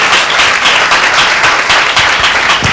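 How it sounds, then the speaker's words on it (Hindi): A church congregation at a Sunday meeting claps loudly and enthusiastically, a thick, continuous roar of many hands with pulsing bursts, close and at full volume for nearly three seconds with no voices heard. "चलिए एक जोरदार ताली प्रभु यीशु मसीह के नाम को देते हैं"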